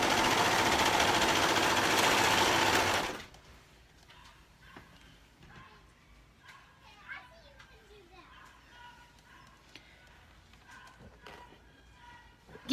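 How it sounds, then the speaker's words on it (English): A sewing machine runs loudly for about three seconds stitching back over a side seam, then stops, leaving quiet room noise with scattered faint clicks and small sounds. "I'm going to sew back over it and catch it"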